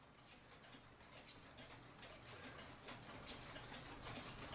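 A New England calendar clock, no. 2710, ticks steadily and faintly with an even, regular beat and a light mechanical hum underneath, with no one speaking.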